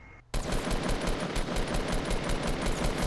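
Sustained automatic gunfire in the video game Fortnite, a loud rapid rattle that starts abruptly and continues unbroken for about three seconds.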